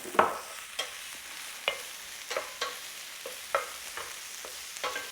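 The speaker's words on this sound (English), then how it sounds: "Just give that a quick stir through." Tomatoes and lime sizzle quietly in a hot frying pan while a utensil stirs them, with light scraping clinks at an irregular rhythm over a steady frying hiss.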